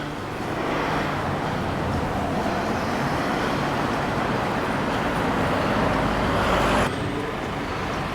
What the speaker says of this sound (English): There's lots of traffic, Mo.